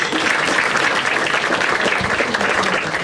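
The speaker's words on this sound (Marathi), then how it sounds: "एकदा टाळ्या वाजायच्या" At a Marathi stand-up comedy show, the audience breaks into a full, lively round of applause that fills the room and carries on steadily for a few seconds.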